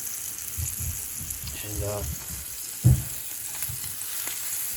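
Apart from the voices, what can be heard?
deer heart frying in butter in a frying pan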